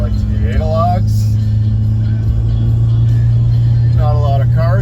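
A warmed-up Mitsubishi Evo X engine idles with a steady, close, low drone that holds constant throughout, while someone talks briefly over it.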